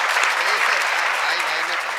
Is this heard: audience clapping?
yes